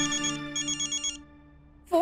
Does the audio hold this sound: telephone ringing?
yes